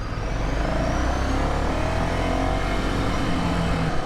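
A Ducati Scrambler Sixty2, the 400cc Ducati, pulls hard under acceleration, its engine note rising steadily in pitch with loud, continuous exhaust and wind noise heard up close.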